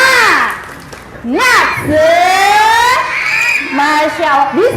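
A group of young schoolchildren at a kindergarten event shout a rhythmic spirit clap chant together, loud and close, with rising and falling calls.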